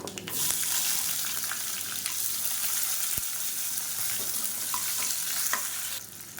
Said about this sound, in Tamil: இப்போ இதில் மீடியம் சைஸில் ஒரு பெரிய வெங்காயம், ஒரு 7 சின்ன வெங்காயம் முழுசாக அப்படியே சேர்த்துக்கலாம்.